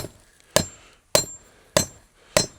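At a traditional village forge, a small hammer strikes metal four times in an even rhythm, each blow a sharp, bright clang with a short ringing decay, close and clear.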